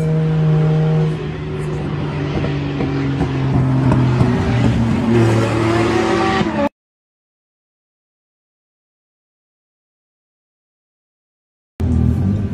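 A drift car at an RDS Europe round roars loudly at high revs with shifting engine tones, its run ending abruptly in silence before the engine noise returns briefly.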